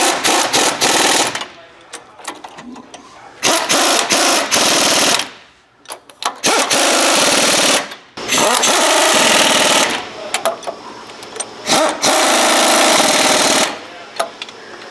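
An impact wrench tightens bolts on a new-gen air ride steer axle kit on a Peterbilt 389, firing repeated loud, rattling bursts of a second or two, separated by short pauses.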